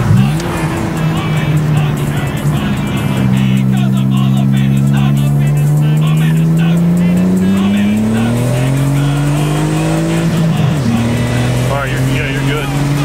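A 2006 Hyundai Tiburon V6 with a custom turbo accelerates hard in third gear, its close, loud engine note climbing steadily, dipping briefly near the end and then rising again.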